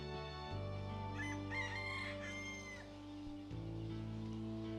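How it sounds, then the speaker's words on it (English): Roosters crow in long, drawn-out calls in Bali, overlapping one another at a distance, with softer chicken clucks scattered underneath. "There's a lot of rooster and chicken action going on right now in Bali."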